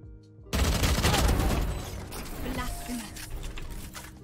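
Phantom rifle gunfire in Valorant bursts in after a short quiet lead-in, a dense rapid volley that trails into scattered mechanical clatter and softer shots.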